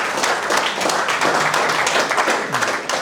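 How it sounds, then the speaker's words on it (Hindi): An audience bursts into loud, sustained applause for their parents, a dense wash of many hands clapping close and steady for about three seconds with no voices over it. "तो पहले जोरदार ताली अपने पेरेंट्स के लिए"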